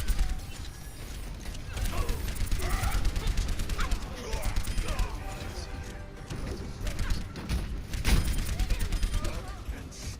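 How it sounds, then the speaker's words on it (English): A rocket barrage in a team shooter video game pounds a capture point with dense, overlapping blasts and mechanical clatter over about ten seconds, while a commentator talks excitedly over the action. "Oh, and the rocket barrage on the point."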